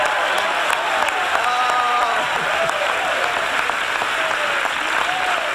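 A church congregation at a service applauding together, dense sustained clapping filling the room at a steady loud level, with a few voices faintly mixed in.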